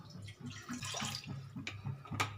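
Water pours into a prawn and raw mango dish, a soft, close trickle and splash that runs unevenly for a couple of seconds.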